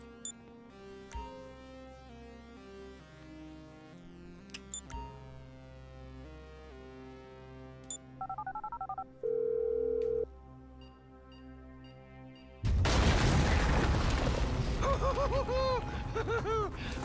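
Phone dialing in Grand Theft Auto 5: a short run of steady tones and beeps over quiet game music, followed by a loud, busy burst of game sound.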